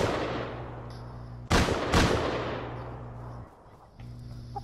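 Two sharp, loud gunshots about half a second apart ring out in the video game Rust, each with a brief decaying tail over a steady low in-game hum.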